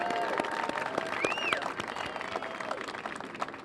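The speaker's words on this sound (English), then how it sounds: "Let's give a big round of applause to the whole FDR team." Audience applause fills the room at a neon sign revival night at the Avenue Theater in Portola, honoring the FDR team: dense, steady clapping from a crowd at close range that holds at an even level throughout.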